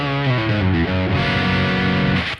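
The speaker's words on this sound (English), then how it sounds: "It's got a built-in like distortion and preamp kind of thing in there, and it actually plays really," An electric guitar played through a built-in distortion and preamp, with loud, saturated notes and chords that shift in pitch early and then ring out sustained before stopping abruptly. No voices.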